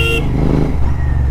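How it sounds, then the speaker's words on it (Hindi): Royal Enfield GT 650 motorcycle riding in summer evening traffic, a steady near engine and exhaust drone with faint crackle-like pops, plus a brief horn-like tone at the very start. "बहुत भयंकर क्रैकल्स मार रहे"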